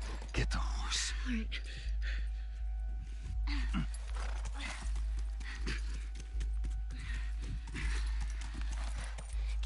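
A horse's hooves clip-clop in The Last of Us video game, a steady walking rhythm of soft hoof beats over low ambient background with a faint voice now and then.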